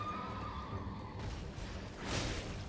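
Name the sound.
horse neighing in Elden Ring video game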